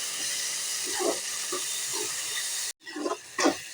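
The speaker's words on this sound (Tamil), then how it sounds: "தக்காளி நல்லா வதங்கட்டும்" Two medium tomatoes sauté in a pan for sundakkai kulambu, producing a steady, loud sizzling hiss with a brief break followed by stirring clatters.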